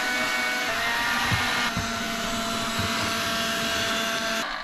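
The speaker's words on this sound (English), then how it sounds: "So we're gonna give it a quick vacuum here before we go." A cordless vacuum cleaner runs steadily across a camper van floor, a continuous close whine with small bumps and clatters as it picks up crumbs and debris, with no talking.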